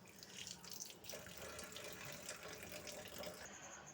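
Cut ash gourd shoots are rinsed under running water at a sink, a faint continuous splash and trickle with small bursts of handling noise, fairly quiet throughout.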